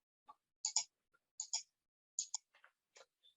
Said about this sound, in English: let's select the cell and then delete on the keyboard